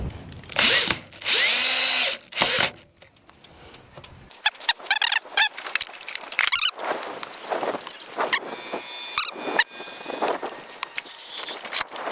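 Cordless power drill driving screws into barndominium siding, several loud, close whirring bursts at the start, followed by lighter clicks, knocks and scattered handling noises.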